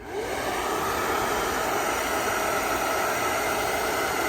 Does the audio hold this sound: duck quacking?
no